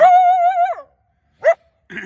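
A coyote caught in a trap lets out a long, wavering, high whining cry close by, then a short sharp yelp after a pause, followed by another strained cry.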